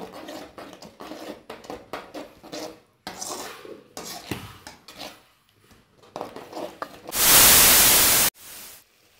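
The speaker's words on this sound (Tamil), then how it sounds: "இந்த மாதிரி எண்ணெய் பிரிகிற அளவுக்கு நல்லா வதக்கிக்கங்க." Spicy bread masala being sautéed in a pan, salted and cooked until the oil separates: repeated scraping and clinking of utensils against the pan, close and fairly loud, with a burst of loud hissing sizzle near the end.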